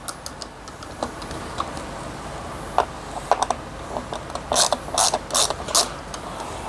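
Screws being backed out of the base plate of a Bissell PowerGlide Pet vacuum, a sparse run of small clicks and ratcheting ticks that grows into quick bright bursts near the end, close and alone.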